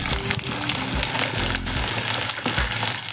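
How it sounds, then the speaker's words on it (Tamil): Onion sautés in a hot pan with dried red chilies and curry leaves, a loud close crackling sizzle throughout, broken by a few thumps and stirring scrapes, with no voices. "வெங்காயம் நல்லா வதங்கட்டும்."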